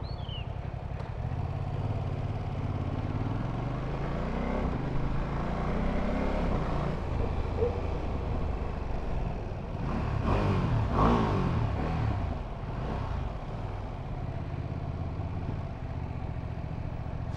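A Ducati motorcycle engine revs up and down several times, rising pitch swells over a steady idle, close by with no talking.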